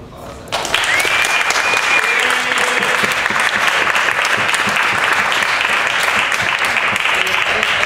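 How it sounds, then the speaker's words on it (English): An audience claps loudly and continuously after a sudden start, a dense sustained burst of applause with a faint whistle rising over it early on. "I'm going to give her a round of applause."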